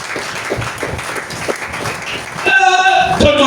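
A church congregation applauds and cheers in praise during a French-language worship service, with steady clapping that swells louder in the final second, mixed with voices.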